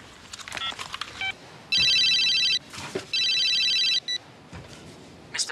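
Phone ringing in two long electronic ring bursts while a call goes through to Mum's number, loud and close, with faint background sounds between rings.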